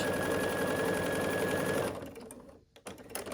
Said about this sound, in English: And sew across here with a 1/4 inch.